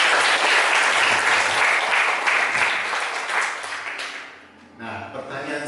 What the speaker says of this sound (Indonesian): Kita tepuk tangannya.